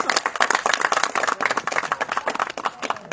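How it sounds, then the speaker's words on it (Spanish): Audience applause for municipal workers at a drainage works launch event, dense rapid clapping from a crowd, fairly close and continuous for a few seconds. "Un aplauso para ellos, por favor, fuerte, que se oiga este aplauso."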